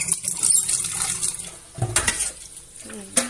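A wok (kadai) is washed under running water, with splashing, scrubbing and metallic clinks and knocks against the pan, close and uneven in bursts.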